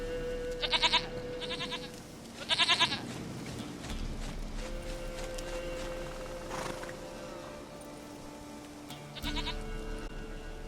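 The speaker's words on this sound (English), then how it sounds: "Goat of mine, dearest, sweetest goat." Goats bleat in The Witcher 3, several wavering calls in short bursts early on and another near the end, over soft ambient game music and background sound.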